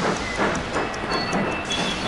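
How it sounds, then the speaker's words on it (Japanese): A freight train in Sid Meier's Railroads labours across a trestle bridge, giving a steady, fairly loud rumble with hissing and faint clatter and no voices. "その後ろで、立橋と必死に格闘する貨物列車がなんともシュールだね"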